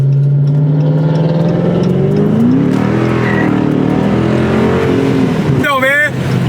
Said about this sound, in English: you're gonna hear me down the street now